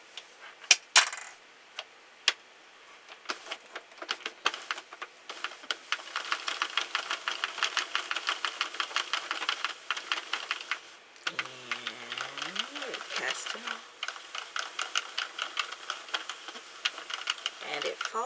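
A Sentro knitting machine is cranked to cast off Vanna's Choice yarn, making rapid, regular plastic clicking in long rhythmic runs. A voice talks briefly in a pause partway through.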